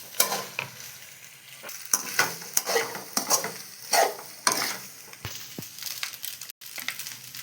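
Cooked pasta is tossed and stir-fried in a hot pan, giving uneven bursts of sizzling and scraping stirs with short pauses between them, close and fairly loud.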